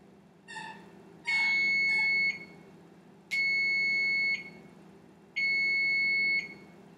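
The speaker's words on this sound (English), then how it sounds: "the sound of the oven bell ringing" Three long electronic beeps from an oven timer, each lasting about a second, sounding at a steady interval with short gaps, loud and close, after a couple of brief chirps.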